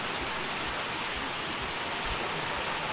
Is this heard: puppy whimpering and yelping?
no